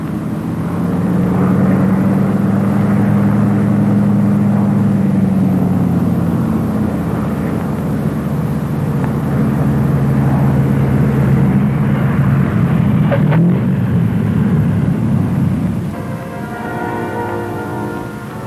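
Engines of a twin-engine Lockheed P-38 fighter plane droning loudly and steadily at close range, the pitch shifting slightly and easing off near the end, with no speech.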